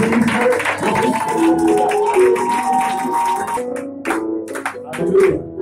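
A church congregation applauds and cheers to welcome an evangelist, a dense, sustained wash of clapping mixed with music and voices that thins out near the end.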